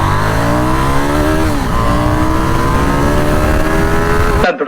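KTM Duke 890 motorcycle with an 889cc parallel-twin engine, loud and close under hard acceleration, engine note climbing steadily, dipping once at a gear change, then cutting off abruptly.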